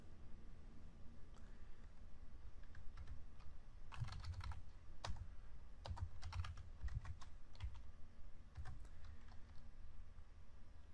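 Computer keyboard typing code, with irregular bursts of quick, close, soft key clicks and brief pauses, no voice present.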